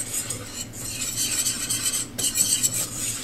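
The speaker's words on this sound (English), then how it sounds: "And we're going to go ahead and add the 2 tablespoons of flour. We're going to stir that in" Flour being stirred into hot fat in a pan for a roux, a continuous close scraping and swishing of a utensil with a faint sizzle, no voices.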